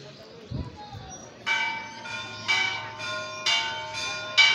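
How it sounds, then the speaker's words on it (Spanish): Church bells ring out over a municipal park in Ereguayquin during town festivities, striking in a steady rhythm about once a second. They sound moderately distant and mostly alone against soft background noise. "Y por allá tenemos las campanas."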